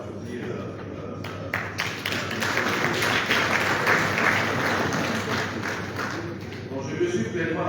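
Audience applause at a meeting of West African central bank governors in Liberia, a dense steady wash of many hands clapping in a large room, swelling slightly in the middle before tapering off.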